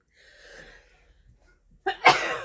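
After a quiet moment with a faint breath, one close, loud sneeze bursts out with a sharp intake and explosive release.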